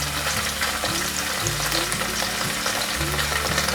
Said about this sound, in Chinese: 把豆腐都炸成金黄色